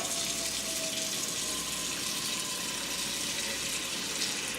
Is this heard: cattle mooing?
no